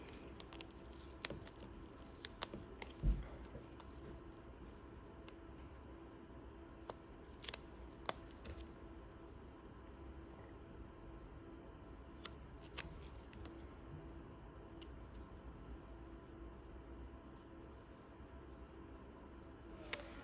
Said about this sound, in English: I'm just going to cut some of the excess away.